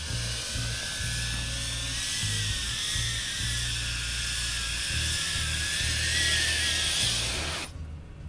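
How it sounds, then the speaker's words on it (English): A small Eachine CVATAR cinewhoop FPV drone on a 6S battery flies in close to land, its loud, steady high-pitched whine of ducted propellers holding with slight pitch shifts for about eight seconds before cutting off abruptly. "let's bring this back in for a landing right over here"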